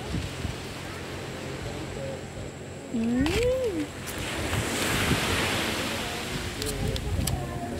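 Ocean surf rolls steadily at Amper beach, a continuous wash of waves with wind buffeting the microphone, while people chat and call out nearby over the noise.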